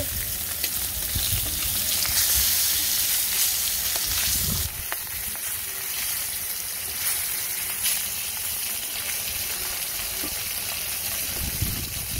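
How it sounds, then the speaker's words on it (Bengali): Fish fries in oil over an outdoor rural cooking fire on a windy day, a steady loud crackling sizzle that runs throughout, with a brief stirring clatter now and then. "এই তো মাছ ভাজা হয়ে গেছে"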